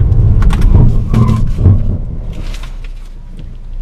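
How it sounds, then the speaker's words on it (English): A 2015 Buick Encore AWD brakes hard from 40 mph, producing a loud, close rumbling of tires and chassis with a few thumps and knocks that fade as the car comes to a stop. "we're gonna brake at 40 miles per hour and see how quickly we can brake"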